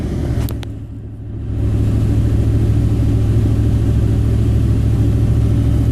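A car engine runs under load with a steady low rumble, a brief dip and quieter moment early on before settling into an even, loud, continuous drone; no one speaks.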